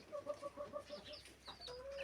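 Hens and roosters in a henhouse give a close, rhythmic run of repeated clucks, followed by a higher, drawn-out call near the end.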